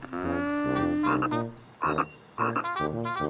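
A cartoon common tree frog croaks in a few deep, throaty bursts, close and loud, with short pauses between the calls and no talking over them.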